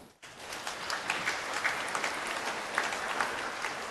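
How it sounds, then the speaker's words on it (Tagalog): A church congregation bursts into applause during a homily, continuing as a steady patter of many hands clapping, moderately loud and fairly even. "Pumalakpak ng malakas."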